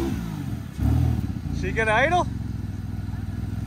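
Old Dodge fire truck engine running rough, a low lumpy idle that swells into a brief rev, with someone speaking and a short whistling sound partway through.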